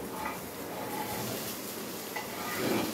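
Cauliflower florets and onions fry in a pan, a soft continuous sizzle broken by occasional stirring scrapes and a faint utensil clink, swelling slightly at the end.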